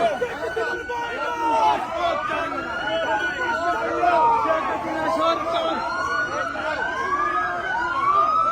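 Several police sirens wail in overlapping, rising and falling sweeps, continuous and fairly loud, with someone speaking over them amid a political protest with chanted slogans in Bangladesh.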